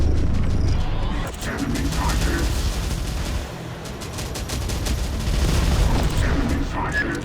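Guided anti-tank weapon strikes a tank in Terminator Dark Fate Defiance amid heavy battle noise: booming explosions and bursts of rapid gunfire, loud and dense, with a voice talking over it.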